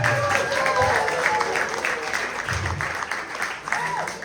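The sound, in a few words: audience applause at comedy show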